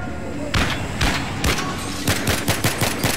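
Gunfire in the video game Battlefield 3: loud, close shots ring out singly, then in a quick run of rapid bursts, heavy and booming against a constant background rumble.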